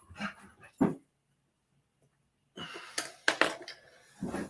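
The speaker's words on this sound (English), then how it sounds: "listening to the dogs play in there" Dogs at play in a nearby room: scattered yips, snuffles and wheezy whimpers in two bursts separated by a quiet stretch, moderately close and unaccompanied by talk.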